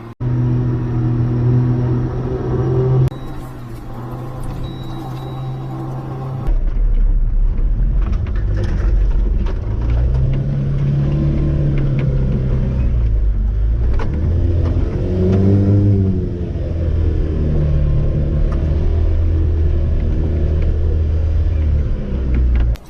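A mini truck's engine revs and rumbles close by during a winch recovery in snow, holding loud and steady with rising and falling surges of revving throughout.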